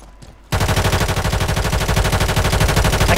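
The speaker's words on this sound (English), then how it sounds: "They're shooting at me." Call of Duty Modern Warfare gunfire erupts after a short quiet moment, a loud rapid automatic stream of evenly spaced shots that carries on without a break to the end.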